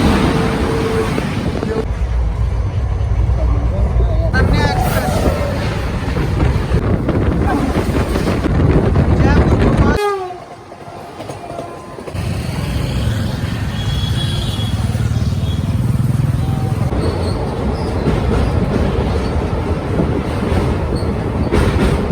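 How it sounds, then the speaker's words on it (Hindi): Sabarmati Express, a broad-gauge passenger train pulling into Sabarmati station in Ahmedabad, rumbles steadily on the rails with wind buffeting the microphone; a brief lull partway through gives way to renewed rolling noise and faint wheel squeal. "आज की हमारी अपनी सवारी पहुंच गई साबरमती अहमदाबाद बीजी रेलवे स्टेशन।"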